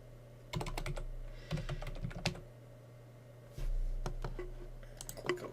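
Computer keyboard typing as a group name is entered on a Windows Server 2016 machine, several clusters of quick clicky keystrokes separated by pauses, close and distinct, with no talking.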